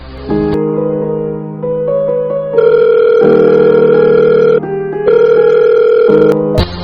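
Electronic telephone tones sound loud and close while a call is placed home, steady sustained beeps shifting in pitch in several segments with brief gaps.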